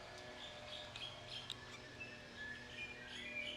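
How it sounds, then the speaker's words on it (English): Birds in the bird park at Taman Burung TMII, Jakarta, giving faint, scattered chirps and short tweets against a quiet outdoor background, with no one speaking. "Everywhere you can hear birds,"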